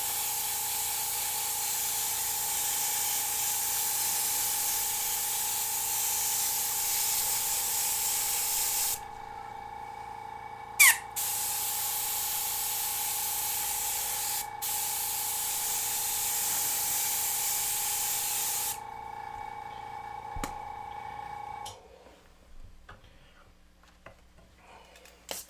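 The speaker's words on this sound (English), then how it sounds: "But I'm going to be spraying a bunch anyway." An airbrush sprays paint onto a panel for a tiki artwork in a steady, close hiss. It pauses briefly twice, then resumes and cuts off near the end, leaving quiet room tone.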